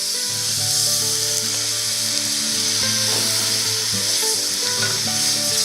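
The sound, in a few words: white wine added to toasting rice for mushroom risotto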